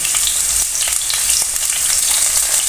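Whole coriander, cumin, cloves, black pepper, cinnamon and cardamom sizzling in hot oil in a pan for a cauliflower sabzi, a loud continuous close-up crackle and hiss with no talking.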